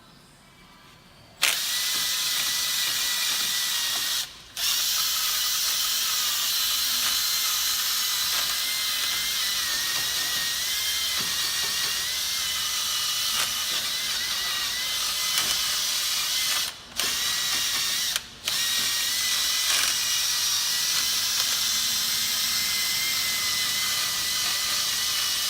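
A wire brush wheel on a power tool scrubbing rust off a 2012 Toyota RAV4 front wheel hub, a sustained loud grinding whir broken by a few brief pauses where the tool stops and restarts.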